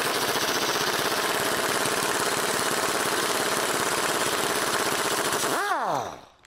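A power tool with a 24 mm socket runs a fast, continuous rattling hammer on the lower ball joint nut of a Ford Transit Connect during a clutch replacement in a garage, then spins down at the end.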